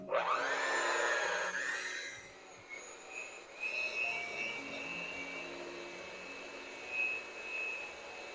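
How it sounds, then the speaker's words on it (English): An electric hand mixer blends flour into batter for a Steen's syrup cake. Its motor whines loudly and rises in pitch for about two seconds, then settles into a softer, steady hum with a thin high tone. No one speaks. "Just mix the flour in first with your spoon and then come back with the mixer."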